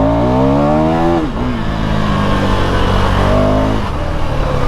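A KTM Duke 390 motorcycle accelerates hard in first gear, its engine note rising steadily in pitch, easing for a moment, then climbing again, loud and close throughout with no talk.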